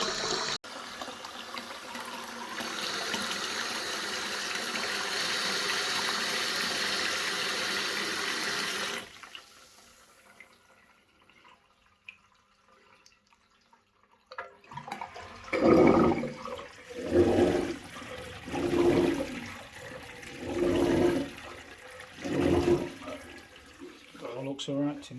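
Tap water runs into a pedestal basin as a steady rushing stream for several seconds after a waste swap, then stops; speech follows.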